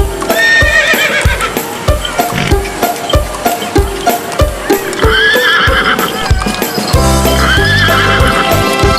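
A delman horse carriage's horse trots with steady, even clip-clops, then lets out a loud neigh near the end, all over a continuous musical backing.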